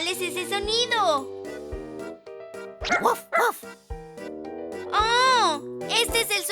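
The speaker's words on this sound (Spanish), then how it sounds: "Este es el sonido de un tierno cachorro." A cartoon puppy yaps and barks in short bouts amid a children's animal sounds song, with a child-like voice and bright music around the barks.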